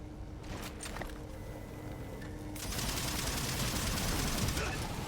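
Needler fire from Halo 4 in a co-op Legendary battle against a Wraith, a dense rapid stream of shots that swells louder and busier halfway through, mixed with combat noise.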